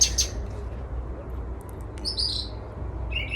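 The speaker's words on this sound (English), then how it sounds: "Lovely sounds coming from the birds." Birds chirp and sing in backyard garden trees, several short tweets and a few longer calls, moderately near, over a low steady rumble of background noise.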